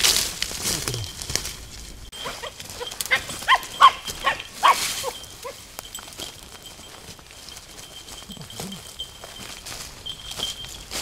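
A hunting dog barks in short bursts at a distance during a wild boar bow hunt in the field, with rustling and footsteps around it and no talk.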